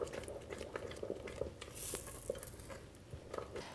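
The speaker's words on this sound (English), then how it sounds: "Keep on stirring, because otherwise it'll stick to the bottom of the pan and you get a slightly burnt taste." Thick caramel boiling in a pan for fudge squares, stirred constantly, gives a steady close bubbling patter with soft scraping and small clicks against the pan.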